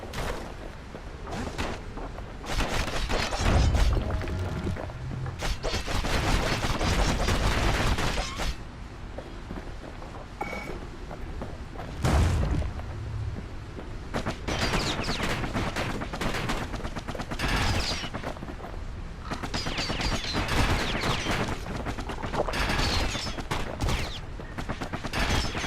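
Repeated bursts of rapid gunfire and booms from the video game Bastion fill the scene, dense and loud with short pauses between volleys.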